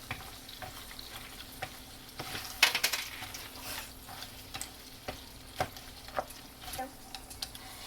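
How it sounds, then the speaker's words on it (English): Pasta being stirred with tomato sauce in a pan, soft sizzling with light scrapes and clinks of a utensil against the pan at a quiet level, faint voices now and then. "And now we're just going to mix everything together."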